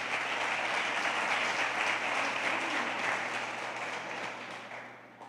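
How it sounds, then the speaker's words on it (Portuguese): A church congregation applauds in a broad, dense wash of clapping that swells early, holds steady, then gradually fades toward the end, heard from a moderate distance with a low steady hum beneath. "Você pode aplaudir ao Senhor Jesus"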